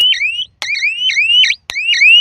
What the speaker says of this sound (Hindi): थोड़ा उसका अलार्म बंद कीजिए ताकि इसका साउंड एक्चुअल सुनाई दे